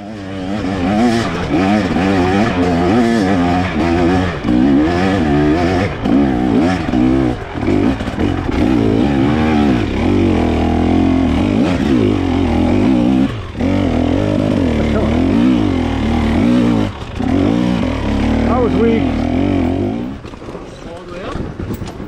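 A trail motorbike engine revs hard on a hill climb during a trail ride in Goshen, New Brunswick, its pitch rising and falling with throttle bursts, loud and close throughout.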